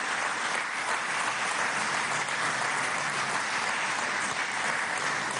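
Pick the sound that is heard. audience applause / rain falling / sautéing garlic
audience applause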